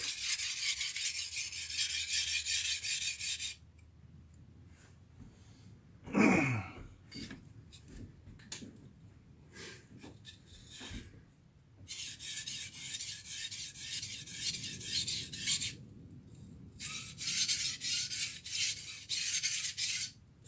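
Repeated gritty rasping strokes of a blade drawn across a whetstone, in bursts separated by brief quieter pauses, close and steady.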